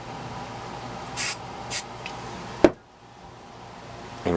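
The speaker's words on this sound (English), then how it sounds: "I'm actually going to just spray a little spray right on that." Two short hissing bursts of a spray can, close and fairly soft, followed by a sharp click and then quiet.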